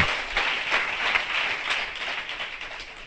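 A church congregation applauding the Lord, a dense, steady wash of clapping sustained throughout at moderate level with no speech over it.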